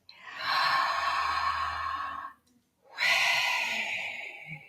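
Two long, loud open-mouth breaths during a breathwork exercise: a forceful airy rush lasting about two seconds, a brief silence, then another strong breath, close to the microphone with no words.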